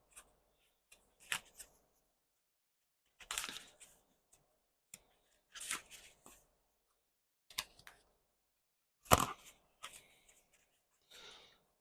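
Playing cards being shuffled by hand indoors during a card reading, heard as short, quiet riffling bursts separated by silences, about seven or eight in all.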